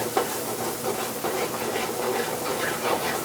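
Butter sizzles in a hot pan with scallops, shallots and garlic, giving a steady, close hiss and crackle that runs without a break.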